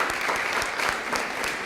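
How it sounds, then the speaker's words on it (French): Audience at a professional conference on 360° video and virtual reality applauds steadily, a dense, even wash of many hands clapping with no voices on top. "on peut vous applaudir d'être venu partager avec nous ces expériences"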